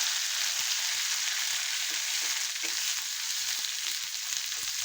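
A paste of roasted onion, garlic and coconut fries in a little oil for rajma, giving a steady, bright close sizzle with faint occasional stirring taps underneath.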